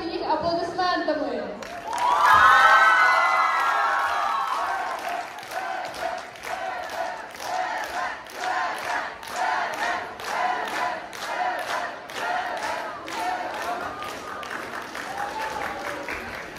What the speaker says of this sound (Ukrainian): Тож зустрічайте їх аплодисментами!